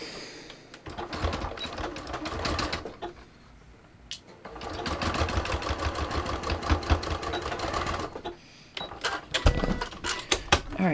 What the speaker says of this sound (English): I'm going to sew this at 3/8